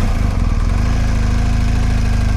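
A motorcycle engine idles at low speed, about 6 mph, with a loud, steady, low-pitched throbbing putter that holds even from start to finish.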